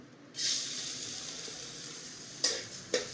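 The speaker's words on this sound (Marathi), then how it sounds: "भाजण्यासाठी थोडंसं तूप टाकलेलं आहे आता हे तांदूळ टाकून घेणार" Rice hits hot ghee in a pan and a bright, steady sizzle rises and holds, close and fairly loud, with two sharper hissing bursts as the grains are stirred near the end.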